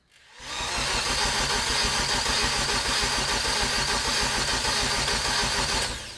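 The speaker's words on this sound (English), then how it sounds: "the motor sounds good though" A car engine cranks and catches within half a second, then settles into a steady, loud, close idle that keeps running evenly for several seconds without voices.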